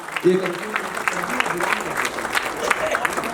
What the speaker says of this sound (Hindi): बजाओ मिलकर एक बार तालियां साहब